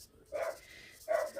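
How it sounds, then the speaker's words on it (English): A dog barks twice at children outside, indoors and moderately close, with a short gap between the two barks and a quiet hum underneath. "He's barking because the kids are outside."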